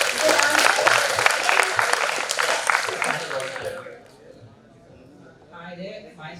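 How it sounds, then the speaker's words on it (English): Students at a school event clap for a good answer, a burst of dense applause that holds for about three seconds, then fades out into quiet room tone with faint voices at the end. "can we have a round of applause? Good answer."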